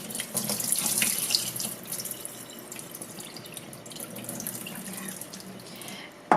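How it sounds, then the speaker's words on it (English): Water running and gurgling as it drains from a kitchen sink after soaking seaweed for Korean seaweed soup, a steady close splashing flow with small drips, fairly quiet and alone. "what I'm going to do now is drain the water"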